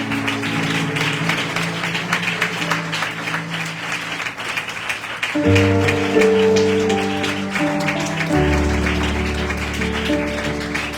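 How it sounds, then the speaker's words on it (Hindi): Audience at a church gathering applauds steadily with dense, continuous clapping while sustained organ-like music tones play underneath. "तालियां बजाएं"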